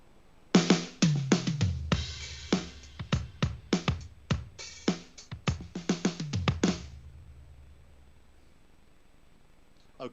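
Yamaha DTX electronic drum kit played with its kit modifiers switched off, giving a short fill of dry, close hits on drums and cymbals over about six seconds before fading into quiet.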